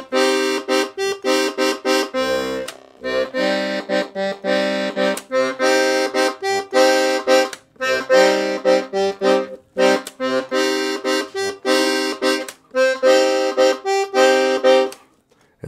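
Loud, sustained reedy accordion bass chords from a 120-bass, five-reed Beltuna Prestige V piano accordion, held and repeated with brief gaps between them, rich and buzzy, played alone.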